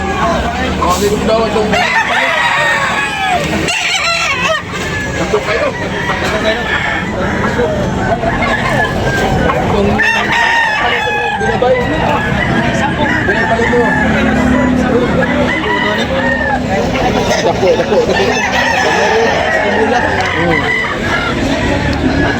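Many gamecocks and roosters crow and cluck at a busy outdoor gamecock market in Tabunok, Cebu, over constant crowd babble and traders talking, with occasional passing traffic, loud and dense throughout.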